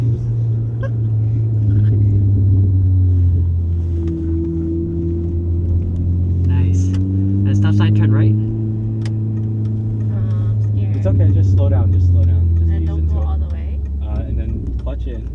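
Mini Cooper S with a manual clutch driving along a two-way street, a steady low engine rumble running throughout while people talk inside the car over it.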